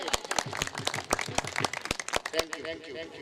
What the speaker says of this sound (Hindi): आप सब दोस्तों से गुजारिश है कि पाकिस्तान मीडिया काउंसिल के लिए जोरदार तालियां दीजिए